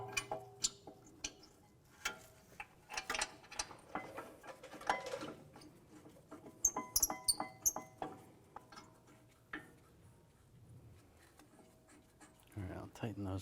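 Ratchet tightening brake caliper bolts on a 2004-2010 BMW X3 during a front wheel hub bearing replacement, quick close clicking bursts and metallic ticks in uneven runs, with no talking.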